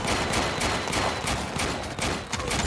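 Base defense turret in the strategy game Warpips laying down covering fire, a dense, continuous rattle of rapid shots that stays loud and steady throughout with no talk.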